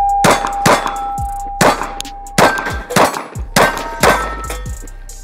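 Gen 5 Glock 30 pistol chambered in .45 fired outdoors, about six loud sharp reports spaced roughly a second apart, each with a ringing metallic tail and a brief echo.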